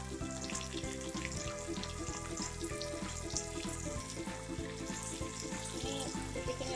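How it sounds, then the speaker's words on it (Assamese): Cumin seeds fry in hot oil with a continuous, faint crackling sizzle that stays even throughout. No one speaks. "জিৰাখিনি দি দিছোঁ, এনেদৰে তেলতে দি দিছোঁ"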